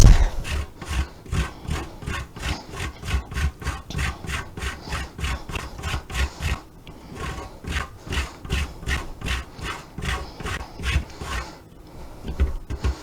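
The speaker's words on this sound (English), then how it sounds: "And we're grating an ounce of dark chocolate." An ounce of dark chocolate being grated by hand in a home kitchen, a steady run of rhythmic rasping strokes, close and fairly loud, with a brief pause midway and no talking.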